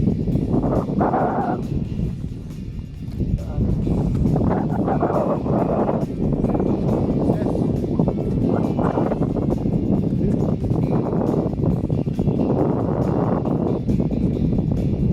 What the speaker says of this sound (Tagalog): ganda yung panahon, mahangin lang.